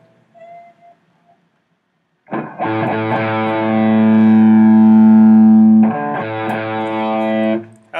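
Crunchy distorted electric guitar from a live setup: a thick sustained chord rings for several seconds, then a second struck chord, loud and saturated with no talking.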